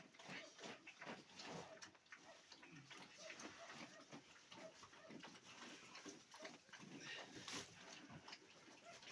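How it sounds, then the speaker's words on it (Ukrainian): A boar roots in the dirt of a pigsty, giving repeated close snuffling grunts and scuffs while a person talks over it. "Е, кабан риє, а свиня"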